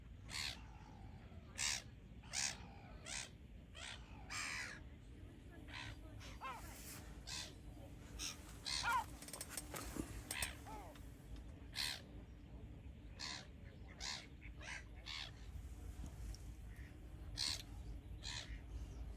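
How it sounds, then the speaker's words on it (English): Gulls squabble over food thrown onto a lake, a steady run of loud, harsh calls and caws repeating through the whole stretch over quiet outdoor background. "They're all floating and the seagulls going mad after them."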